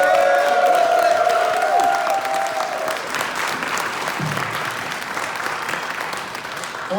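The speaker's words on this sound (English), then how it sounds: "can I get a big round of applause, please, for Natalie, MC Flipside." An audience at a rave-themed book reading bursts into loud applause with some cheering and whoops. A steady tone rings over the first few seconds, then the clapping carries on alone and slowly fades.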